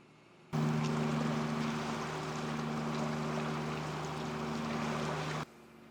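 A cruising boat motors out of Bahia Tortuga bay on Mexico's Pacific coast, giving a steady, loud engine drone with a constant low hum and broad rushing wash that start and stop abruptly.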